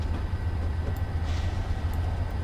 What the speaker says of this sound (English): And yes, I believe that is an Amtrak train.